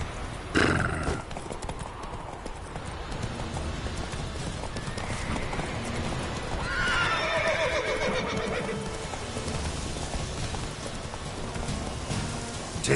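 Horse in a PS4 video game trotting with steady clip-clop hoofbeats throughout, with a whinnying neigh partway through, over a continuous rain-like background.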